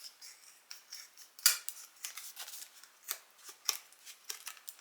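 Scissors cutting a fabric shape for a key fob, a string of crisp snipping clicks at an uneven pace, close and fairly quiet with no talk.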